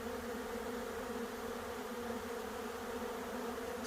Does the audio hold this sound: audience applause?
no